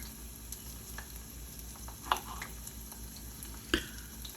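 Garlic frying gently in a pan beside broccoli, a low steady sizzle with a couple of sharper ticks and stirring clicks, quiet and close with no talking.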